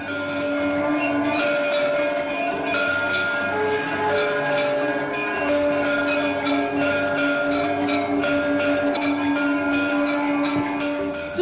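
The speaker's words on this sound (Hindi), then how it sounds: "राम मंदिर परिसर शंख और घंटियों से गूंज उठा।" Bells ring at the Ram temple complex in Ayodhya, with conch shells sounding alongside: a dense, continuous metallic clangor of overlapping strikes sustaining steady tones, loud and unbroken throughout.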